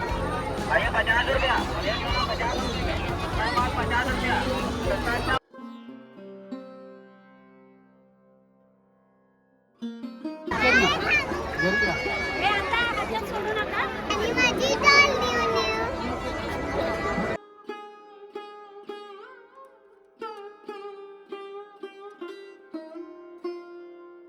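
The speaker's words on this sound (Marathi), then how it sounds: "इथे गर्दी एकदम भन्नाट असते फुल गर्दी असते इथे" A crowd at Durgadi Fort in Kalyan during the Navratri festival: dense chatter and children's voices in bursts, broken by quieter stretches where tonal music plays, fairly loud and close.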